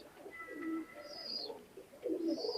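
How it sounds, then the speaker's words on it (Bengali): A pair of Hiralal pigeons coo softly in short, low rounded calls, with a few thin chirps mixed in; close but faint, with no talking. "খুবই মাশাআল্লাহ কোয়ালিটির ভিতরে এক জোড়া হীরালাল কবুতর দেখাচ্ছে"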